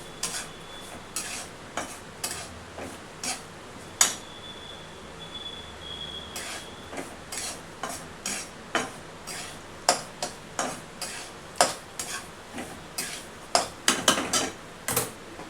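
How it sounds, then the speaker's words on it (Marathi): Semolina being dry-roasted in a pan while it is stirred for jackfruit shira, with steady scraping and clinking taps of a spoon against the pan in an irregular rhythm and a quiet background hiss throughout. "रवा सुद्धा चांगला भाजून घ्यायचा। गुलाबीचा रंगावर येईपर्यंत रवा भाजला पाहिजे।"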